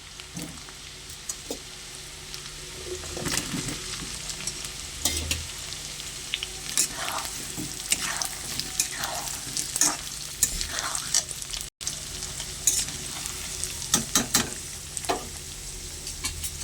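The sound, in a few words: frying potatoes in oil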